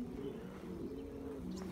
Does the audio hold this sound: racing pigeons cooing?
yes